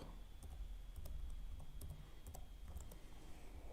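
Soft keyboard clicks of a search query being typed on a computer, a quick irregular patter of keystrokes over a faint steady hum.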